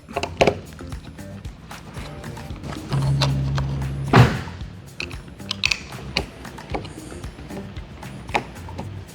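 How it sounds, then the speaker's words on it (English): A screw is driven and tightened through a female buckle on the front edge of a Worksport AL4 tonneau cover, giving scattered close mechanical clicks, ratcheting ticks and creaks, with one sharper burst near the middle and no talking. "insert your screw, and tighten it up"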